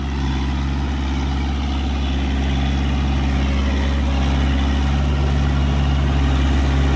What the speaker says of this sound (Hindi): हमने आपको बिल्कुल आइडल RPM पर भी ट्रैक्टर करके दिखा दिया